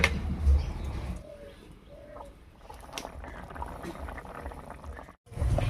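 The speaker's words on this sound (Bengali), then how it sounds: "এবারে বেশ কিছুক্ষণ ঝোলটা খুব ভালো করে জাল করে নেব" Fish curry gravy bubbles in a cooking pot, a soft continuous simmer that stays low and close, with quiet background sounds and louder bursts near the start and end.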